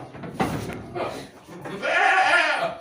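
Goats at a goat farm in Dukuh Keleng, Indonesia: a voice talks at first, then a loud, wavering bleat rises close by and holds for about a second.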